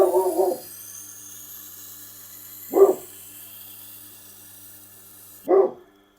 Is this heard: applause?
no